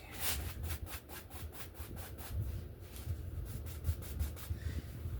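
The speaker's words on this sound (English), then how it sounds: "Wipe the old brush out real quick." An old paintbrush used for oil painting is wiped out in a series of rapid rhythmic rubbing strokes, a close, scratchy swishing that repeats steadily throughout without any talk.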